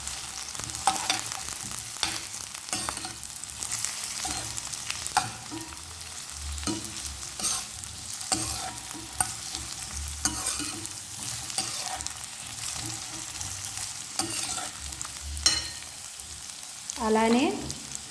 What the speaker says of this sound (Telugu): ఈ ఉల్లిపాయల్ని మనం ఫ్రై చేసుకోవాలి.